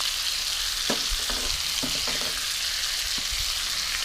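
Egg frying in a pan of oil for a Thai basil stir-fry, a steady hissing sizzle with a few soft clicks and clinks of a utensil against the pan, no voices.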